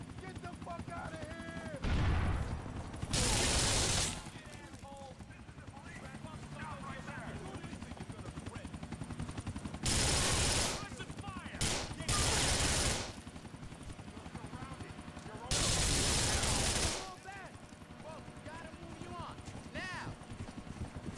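Shotgun blasts from a Grand Theft Auto IV police shootout on PC, heavy loud bursts recurring at irregular intervals over a dense bed of game sound and voices.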